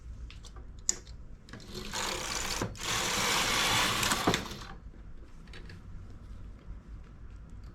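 A domestic knitting machine carriage sweeps across one row in red yarn, a loud rasping whoosh of about two seconds, framed by soft clicks and handling before and after.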